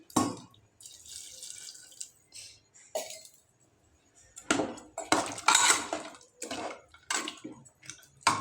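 Hot water splashes into a village-style mutton curry in a pot in a couple of short bursts, with the clink of a metal plate and utensils in a quiet kitchen.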